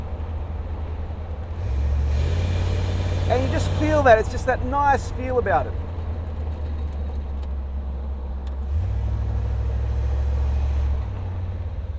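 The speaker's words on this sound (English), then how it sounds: "it's got a big block engine. You can just ease into it, or you can give it a bit of gas" Big block engine of a 1966 Batmobile rumbles low and loud, swelling as it is given gas, easing back mid-clip and then surging again, while someone talks over it.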